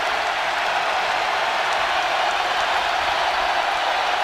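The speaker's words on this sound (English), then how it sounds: "Crowd getting louder by the minute." Steady roar of a basketball arena crowd at a Purdue versus Arkansas college game, loud and continuous cheering with no break, swelling slightly throughout.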